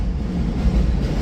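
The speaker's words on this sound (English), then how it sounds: "That's the train." A train passing close by, a steady low rumble and roar that fills the moment without any talk over it.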